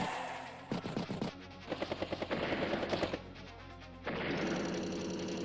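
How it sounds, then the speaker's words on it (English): Rapid bursts of gunfire from a battlecopter attacking a tank in the video game Advance Wars, rattling in several quick volleys followed by a sustained noisy blast, loud and without talk. "so the battlecopter can just continue firing away"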